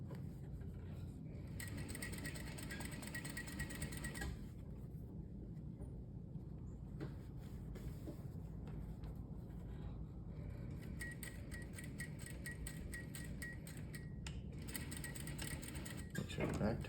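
A sewing machine stitches a half-inch seam close to the folded seam allowance of a waistband, running in steady stretches with brief pauses and a mechanical hum at close range.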